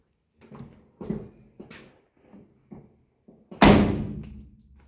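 A car door is being fitted on a Chevrolet Suburban during a rebuild, with several soft knocks and thuds, then one loud, close slam that rings out at the end.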